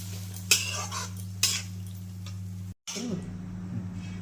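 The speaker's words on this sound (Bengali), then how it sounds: "এবার কিছুক্ষণ আমি এটাকে নাড়চাড় করব।" A spoon clinks twice against a pan of red amaranth, eggplant, potato and ridge gourd as the vegetables are stirred. The sparse, close taps sit over a steady low hum, with a brief dropout partway through.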